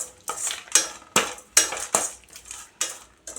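A spoon stirs a thick beetroot thuvaiyal mixture in a metal pan after the stove is switched off. Several distinct scraping clinks come at an uneven rhythm, close and clear with no talk.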